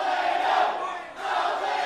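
A wrestling crowd roars and cheers for young Alao, a loud, continuous wall of voices that swells, dips briefly midway, then builds again.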